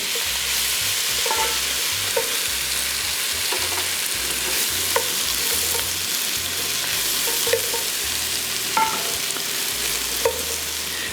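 Garlic and mushrooms fry in hot oil in a pan, a constant loud sizzle with occasional stirring clicks and scrapes throughout.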